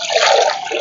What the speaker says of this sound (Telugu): మరి నీళ్ళు అయితే పోతున్నాను